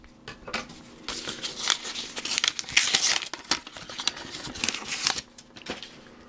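Scissors snip and crinkle through a paper mail package holding Pokemon cards, giving a run of close, irregular cutting and rustling crackles.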